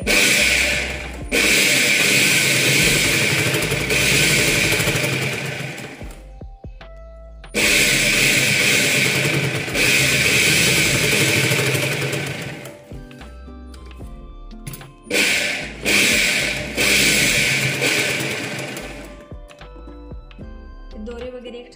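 A sewing machine runs in three long bursts while stitching a katori blouse, its fast whirring broken by short pauses filled with small clicks and handling, up close and with no speech.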